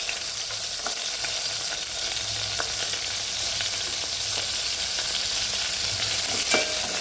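Green chillies fry in a few spoonfuls of hot oil, giving a steady, close crackling sizzle with occasional sharp pops and stirring scrapes throughout, no voices.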